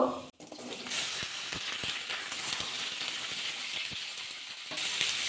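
Hot mustard oil with nigella seeds sizzles steadily in a wok as potatoes fry, opening with a sharp crackle and then a continuous close hiss broken by light scraping stirs.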